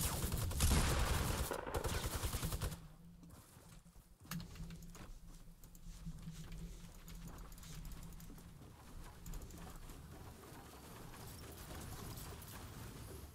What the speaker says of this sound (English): Oh, he's got a minigun!